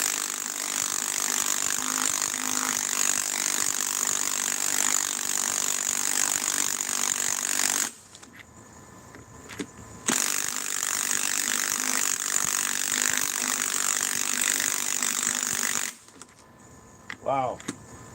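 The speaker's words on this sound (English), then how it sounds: "This is either a tighter hole or this is a weaker impact wrench." An impact wrench drives a bolt into a tight, greased hole in two long, loud, sustained hammering bursts separated by a short, quieter pause, with a brief stop near the end.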